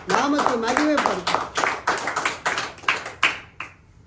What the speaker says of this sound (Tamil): கைத்தட்டி ஆண்டவர்கள் நாமத்தை மகிமைப்படுத்த.